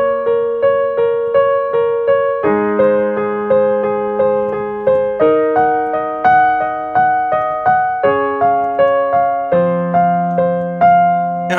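Piano arpeggio from an electronic song, played alone as steady repeating broken chords with clear, evenly spaced notes and shifting harmony every couple of seconds.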